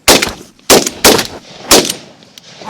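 Four loud shotgun blasts ring out on a rainy public-land dove hunt, close and sharp with short gaps, the second and third closer together, each trailing a brief echo.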